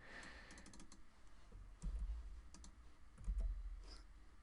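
Keys on a computer keyboard tapped in short, quiet clusters of clicks, close but faint, with a couple of heavier low thumps partway through and no voices.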